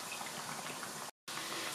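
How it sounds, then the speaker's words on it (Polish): Small pączki doughnuts frying in hot oil give a steady, close crackling sizzle that cuts out briefly near the end before resuming, with no voices. "ja już smażę ostatnią partię pączusiów takich malutkich"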